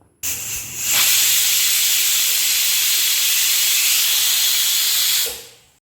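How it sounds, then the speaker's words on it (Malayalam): A pressure cooker cooking rice for medicinal karkidaka kanji lets out one long, loud, steady hissing whistle of escaping steam that starts abruptly, holds for about five seconds, then tapers off. "ഒരു നാലഞ്ച് വിസിലടുപ്പിക്കുക"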